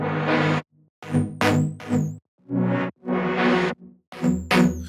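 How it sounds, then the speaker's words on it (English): A lower synth pad plays a choppy, rhythmic pattern that hints at the main drop groove, with loud, rich chord bursts cut by short gaps of silence. "so this is the sound that kind of starts teasing the main rhythm in the drop"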